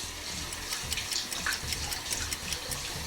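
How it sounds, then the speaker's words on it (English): Water runs steadily from a faucet while skin care product is rinsed off, a continuous close splashing wash with no talking. "I'm gonna rinse this off."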